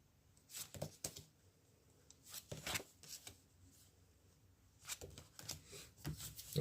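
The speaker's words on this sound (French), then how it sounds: "on va tirer des cartes sur ce danger-là" Tarot cards being shuffled and drawn by hand: several soft, quick riffling and sliding bursts close by, with quiet gaps between them, and no talking.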